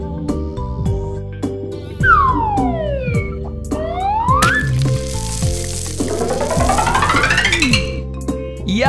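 Cartoon ambulance siren in a children's vehicle-learning animation: loud sweeping wails rising and falling over busy musical sound effects.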